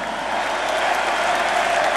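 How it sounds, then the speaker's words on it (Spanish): A concert audience claps in a dense, steady wash of applause that fills the hall, loud and continuous for a couple of seconds with no clear voices. "¡Atención, quiero oír esas palmas!"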